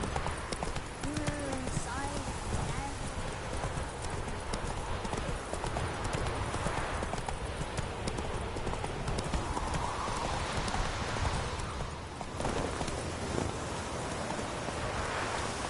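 Roach the horse's hooves clip-clop in a steady walking rhythm through Witcher 3 gameplay, close and continuous, with rustling, wind-like ambience and a voice speaking over it.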